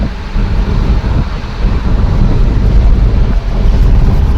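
A car drives along a road at roughly 60 to 70 km/h, giving a steady, loud low rumble of engine and tyres mixed with wind buffeting that continues without a break.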